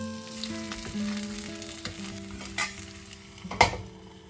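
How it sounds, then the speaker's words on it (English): A prawn pancake fries in butter in a pan, giving a steady close sizzle with occasional sharper crackles and a brief louder pop near the end, while faint tonal hum sits underneath. "Add some more butter to get it fried and crispy."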